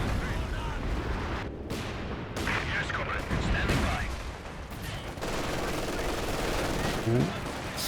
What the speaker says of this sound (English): Light artillery barrage called in on the building